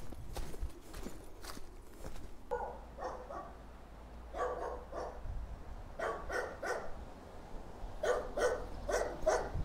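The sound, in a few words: dogs barking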